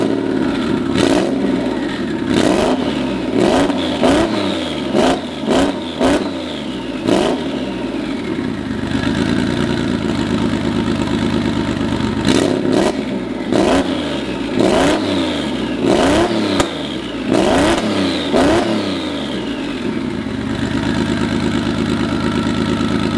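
A Subaru WRX STI, back in use after two years off the road, idles with a burbling rumble broken by repeated sharp revs in two clusters, loud and close with no talking.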